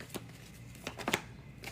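Tarot cards are shuffled by hand in a few soft, crisp riffles and slaps spaced irregularly over a quiet room hum.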